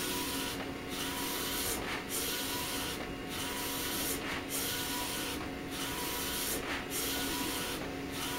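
An HP DesignJet 500ps large-format printer printing, a steady whirring drone broken by regular swishing passes of the print carriage roughly every second, faint and mechanical.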